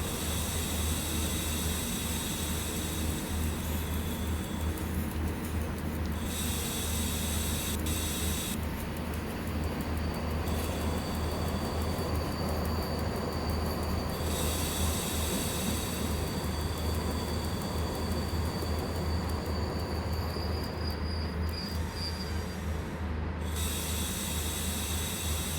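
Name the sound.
PKP ET22 electric locomotive slowing down, from video game SimRail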